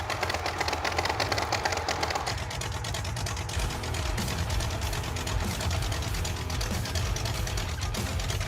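A overheated truck, Stubby Bob, climbs a steep hill with its engine droning loudly and steadily throughout, the revving rough and continuous with no talk.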